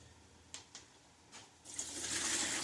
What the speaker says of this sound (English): So okay, I pour this into the oil.